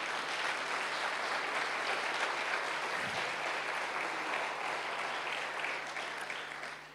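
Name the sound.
church congregation applauding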